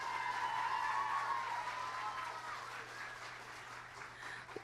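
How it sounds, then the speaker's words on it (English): A hall audience claps for a middle school choir at a fall concert, a dense, fairly faint wash of applause that slowly thins out, heard at a distance under a low electrical hum. "please give them a round of applause"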